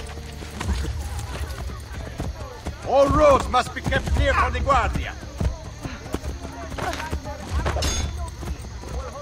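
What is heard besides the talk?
horse hooves galloping in the video game Assassin's Creed: Brotherhood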